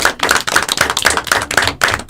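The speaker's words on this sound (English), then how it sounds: "Give yourselves a big round of applause" A Syracuse high school softball team claps in a quick, steady rhythm, about eight sharp, loud beats evenly spaced in a short burst.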